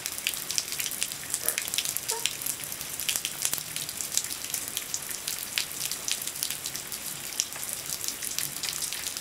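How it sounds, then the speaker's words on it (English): Steady rain patters outdoors and drips off a roof edge, a dense even hiss with scattered individual drops splashing close by, no voices. "playing in the rain, catching the water off the roof"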